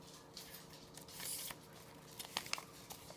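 Scissors cutting newspaper to shape rose petals, with faint soft crunching snips and paper crinkles, a few sharper cuts clustered near the end, no voices.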